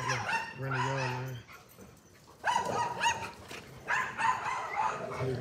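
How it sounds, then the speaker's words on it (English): A small dog barks and yips in a run of short high-pitched bursts with brief whimpering tones, fairly close, over steady background noise, with one short pause before the barking picks up again. "he had a little dog over there barking"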